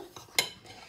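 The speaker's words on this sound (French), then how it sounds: "On mélange un peu." Semolina and sugar stirred together in a bowl: a single quick, faint scrape of a spoon, with a light rustle around it.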